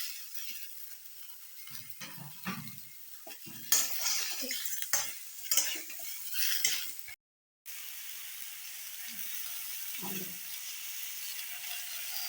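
Tomatoes for chutney sauté in a pan with intermittent spatula stirs and scrapes over a faint frying hiss. A short silent gap breaks the sound, and a steady low sizzle follows. A voice is faintly heard at moments.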